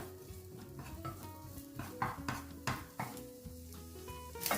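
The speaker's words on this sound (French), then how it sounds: "Donc je vais revenir la moitié ici d'un oignon que j'ai coupé." Half a large chopped onion sautés in oil in a pan, a soft, steady sizzle under repeated scraping and clinking of a utensil stirring against the pan, close by and without speech.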